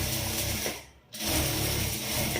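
A sewing machine stitching a line on a blouse, with a rapid mechanical whir that briefly stops for a moment and then resumes, heard up close.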